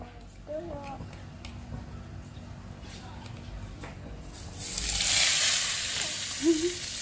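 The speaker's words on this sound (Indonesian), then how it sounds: "Aku mau masak tumis dulu." Eggplant being stir-fried in a pan for tumis terong, starting as faint clinks and light stirring, then swelling into a steady hissing sizzle partway through, fairly close, with a short voice near the end.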